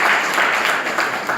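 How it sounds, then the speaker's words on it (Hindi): Loud, dense applause from a college audience at a National Education Day program in Nizamabad, a brief burst of clapping for a speaker named Hafiz. "आप लोग हाफिज़ के लिए एक मरतबा फिर ताली मारिए।"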